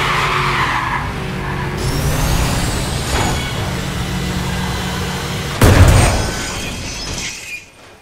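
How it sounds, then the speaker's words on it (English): Video game race car wheels spin and skid with loud, continuous tire squeal over engine drone, and a sharper burst of skidding near the end before it cuts off. "Right here, stop wheel spinning."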